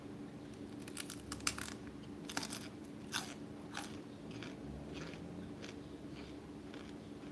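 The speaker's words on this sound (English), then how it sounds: "I'm going to eat a crunchy cauliflower for your listening pleasures." Crunchy cauliflower being eaten up close, with a series of crisp, irregular bites and crunches over quiet room noise.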